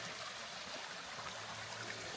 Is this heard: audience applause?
no